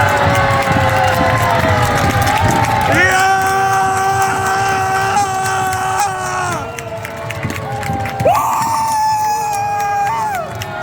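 Football fans at an Asian championship match cheer for DPR Korea's Naegohyang team, a loud nearby crowd chanting in sustained unison tones that rise and hold, with general stadium noise underneath.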